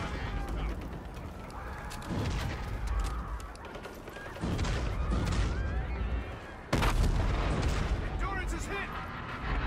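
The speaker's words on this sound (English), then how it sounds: "Our AIM guns are still firing on our breach." Call of Duty battle gunfire of AIM guns blasting at a city breach, with dense, loud bursts of shots and booms layered over game voices and rising toward the end.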